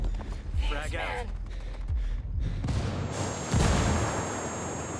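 A frag grenade detonates in Ghost Recon Wildlands firefight, a sharp blast among scattered gunfire bursts, with speech-like chatter early and a louder explosive burst near the end.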